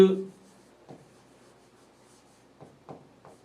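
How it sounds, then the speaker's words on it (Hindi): Chalk or marker writing on a classroom board during an English grammar lesson, with a few soft scratchy strokes in short bursts between pauses and a brief voice at the start. "जैसे कि मैं यहां लिखता हूं"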